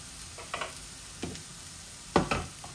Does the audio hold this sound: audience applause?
no